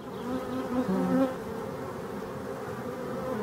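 Honeybees buzz steadily at the hive, a dense, close droning hum with a few louder individual bees passing near.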